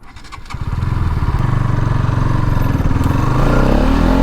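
A Bajaj NS200 motorcycle accelerates hard in first gear, its close, loud engine note climbing steadily in pitch from a low start to a sustained high-revving roar.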